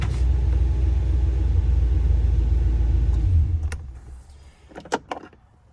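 A Land Rover Defender engine runs with a loud, deep, steady rumble close by, then the drone drops away and a few sharp clicks and knocks follow in near quiet.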